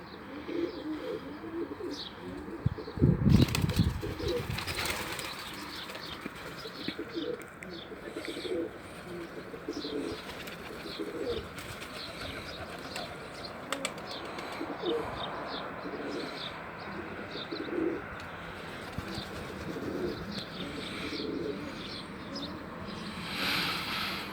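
Pigeons coo softly and repeatedly outdoors amid chirps, with a burst of wing flapping early on as a young pigeon takes flight, while someone talks intermittently nearby.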